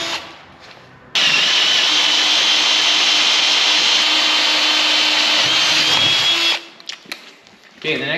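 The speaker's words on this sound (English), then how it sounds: "Probably gonna drill all of our holes first." A power drill bores holes in metal for a DIY power hammer build, a loud sustained high whine for several seconds that starts and stops abruptly, with quieter handling noise and a voice before and after.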